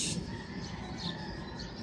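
A freshly released bird gives a few faint, high chirps against a soft, steady outdoor background, with no other voices nearby.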